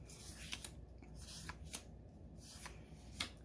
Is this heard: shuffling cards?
yes